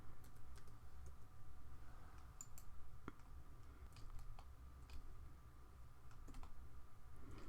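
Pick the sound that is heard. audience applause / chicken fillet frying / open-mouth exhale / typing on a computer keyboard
typing on a computer keyboard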